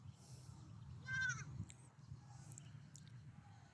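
Native goats kept on a small farm give a single short wavering bleat, faint and a little distant, over low background rumble, with a few other soft animal calls around it.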